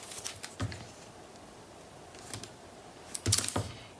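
Tape is pulled and pressed onto a scored paper flap for a craft project, giving a few short, crisp crackling bursts spaced apart over a quiet background.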